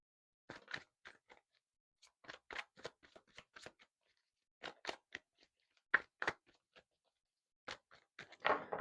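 A deck of tarot cards is shuffled by hand up close, giving quick bursts of crisp riffling and papery snaps in separate clusters with short quiet gaps between, and no talking.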